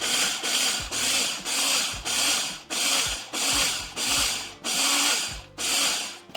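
Food processor pulsing chickpeas for lemon garlic hummus: eight short, loud whirring bursts in a regular rhythm, each about half a second with brief gaps, the blades churning the chickpeas.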